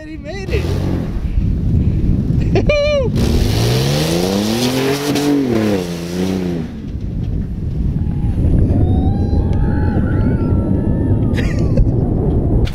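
A Chevy Z71 pickup truck drives off-road, with the engine revving and the tires spinning while people shout and talk loudly over the noise throughout.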